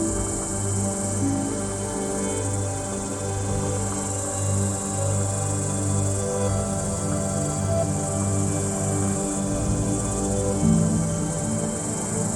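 Cicadas singing in a steady, unbroken high-pitched drone that holds at an even level throughout, with a layered buzz beneath and no voices.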